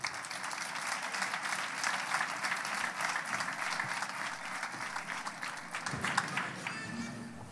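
Audience at a fandango singing contest in Aroche gives a sustained round of applause, dense steady clapping from many hands in a hall, thinning near the end as a voice briefly comes in.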